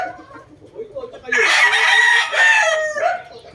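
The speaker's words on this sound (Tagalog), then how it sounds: "mga Boston Roundhead daw yung mga pula niya" Boston Roundhead rooster crowing loudly and close by, one long drawn-out crow with a short follow-up note, over quieter clucking and faint background murmur.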